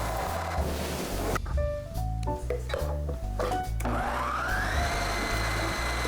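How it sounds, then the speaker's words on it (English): A high-speed blender works lentil bread dough, its motor whirring steadily. The pitch jumps and stutters as the thick gluten-free dough catches and releases, then the motor settles back into a droning whine. "Blend until the dough comes together."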